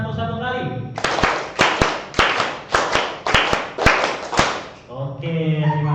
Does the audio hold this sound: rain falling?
no